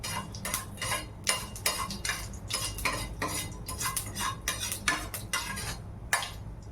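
A utensil stirs a tempering in a pan for South Indian food, scraping and clinking against the metal in quick irregular strokes, close and fairly loud over a faint background sizzle, with no talk.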